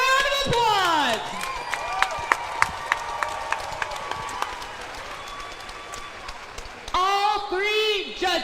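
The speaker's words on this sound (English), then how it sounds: "Let's give these ladies a round of applause." An audience applauds after a women's MMA fight, with scattered claps rising and fading beneath a ring announcer's amplified voice, which resumes strongly at the end.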